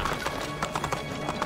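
Rhythmic clip-clop of horse hooves trotting close by in the video game Assassin's Creed II, with a horse's whinny mixed in among the quick hoofbeats; no talking.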